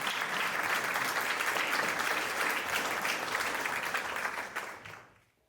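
An audience at a public discussion forum claps warmly as panelists take their seats, a full, even burst of applause that carries for about five seconds and then fades quickly to quiet.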